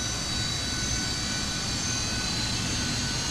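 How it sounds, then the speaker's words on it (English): Twin jet engines of a Fokker 28 airliner in a flight simulator run after start-up, a steady loud rumble with a constant high whine, unchanging and close throughout. "Perfect, so that looks like 2 good engine starts."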